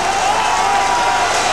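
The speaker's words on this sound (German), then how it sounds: "ein unbeschreiblicher Jubel" A German football stadium crowd roars after a goal in a cup match, a loud, dense and unbroken wall of cheering and clapping.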